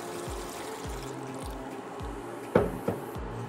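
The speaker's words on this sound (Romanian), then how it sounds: "Acum adăugăm puțină apă," A small splash of water poured into a cauldron of braising lamb organs, a soft trickle and liquid burble with a few sharper drips and clinks near the end, close and fairly quiet.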